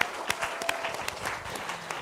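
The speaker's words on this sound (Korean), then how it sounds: "두 분 더 화목한 가정 이루시라고 우리 경례의 박수 부탁드립니다" A church congregation at a 72nd anniversary thanksgiving service claps briefly, with a soft wash of applause punctuated by a few distinct, sharper claps.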